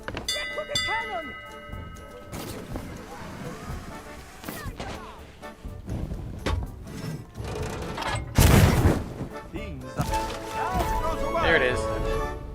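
A heavy ship's cannon in Sea of Thieves fires one loud, booming blast, set among other game noises and a voice talking before and after.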